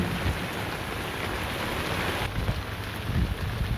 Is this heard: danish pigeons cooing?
no